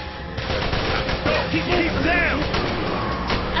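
Rapid gunfire in the video game Call of Duty Black Ops, bursts of shots crackling continuously alongside game effects, with a player's voice talking over the action.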